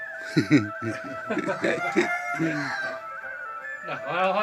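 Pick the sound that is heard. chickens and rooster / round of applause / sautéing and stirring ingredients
chickens and rooster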